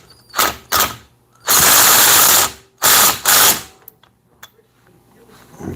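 A hand ratchet clicks in short bursts while tightening down a part on an antique outboard motor during repair, close and loud, with several quick runs of clicking separated by pauses and no talking.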